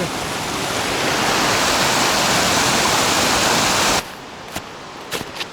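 Steady loud rushing of a fast mountain river, a tributary of the Prut, for about four seconds, then it cuts to quieter background with a few faint clicks.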